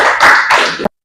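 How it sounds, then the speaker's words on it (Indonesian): Classroom students applauding group 1 with a short, loud, close burst of clapping in two surges that cuts off abruptly after under a second. "tepuk tangan untuk kelompok 1"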